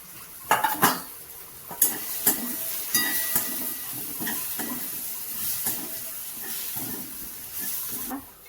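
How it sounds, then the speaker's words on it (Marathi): A spoon stirs spicy chutney through a bitter gourd karela bhaji in a pan, with irregular scrapes and clanks of metal on metal over a light sizzle. "कारले टाकून घेऊ. शिजले. चांगला हलवून घेऊ."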